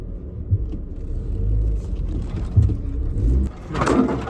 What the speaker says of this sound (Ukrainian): едем в настоящую шахту на машине